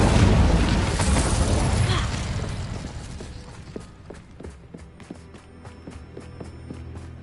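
A fire spell is cast in Hogwarts Legacy, a video game, opening with a loud roaring whoosh of flame that fades over a few seconds. Light, rhythmic footsteps then tap on alone.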